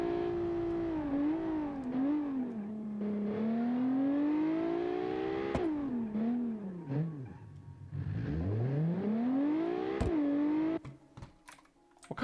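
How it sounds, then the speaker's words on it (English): Six-cylinder car with race exhaust in BeamNG, revving loudly and continuously with rising and falling pitch sweeps, several sharp throttle blips and drops, before cutting to quieter rattling near the end. "It sounds like they got race exhaust."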